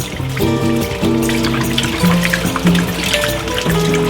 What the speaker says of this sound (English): I'm gonna open the valve and just kind of let some of this dirty water out.